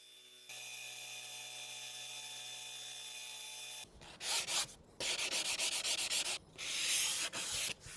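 Scribed line being cut out of a bathroom floor tile, heard as a steady hum for a few seconds followed by loud, harsh rasping bursts of grinding or rubbing with short pauses between them, close up and with no talk.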